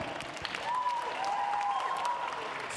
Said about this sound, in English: And applause for yourself.